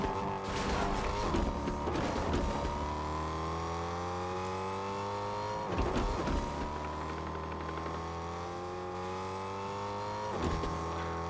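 A car engine drones steadily while driving in Fortnite, with shifting whirring tones and a few louder knocks and bumps spaced through the run, fairly faint overall.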